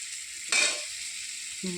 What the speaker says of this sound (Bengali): নুন দিয়ে একটু নেড়ে নেবো